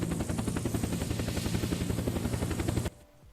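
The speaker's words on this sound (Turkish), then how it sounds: "Vallahi abi ben dedim adamların gizli karakola Helikopterini suya atıyorum." A helicopter in the video game Unturned chops loudly and evenly with fast rotor pulses over a deep engine drone, close and dominant, then cuts off abruptly near the end, leaving near silence.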